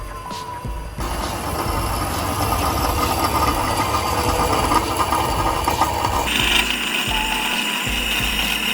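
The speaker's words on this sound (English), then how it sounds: "I probably shouldn't start off by cutting something this oddly shaped for my first time ever using the bandsaw" A bandsaw cuts through an oddly shaped stainless steel downpipe for a BMW M6 twin-turbo V8, giving a loud continuous grinding whir that holds steady for several seconds before the tone shifts higher toward the end.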